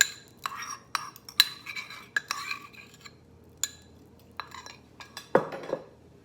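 A spoon scrapes and clinks against a bowl while eggs are stirred into chocolate pecan pie filling, a series of sharp irregular taps and clatters over near silence.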